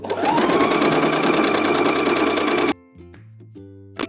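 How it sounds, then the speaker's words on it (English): A cover stitch machine sewing elastic onto fabric for bikini-style underwear: a fast, loud, steady mechanical chatter of stitching for under three seconds, then it stops, followed by a few faint clicks and handling sounds. "definitely use a cover stitch machine for this step as well"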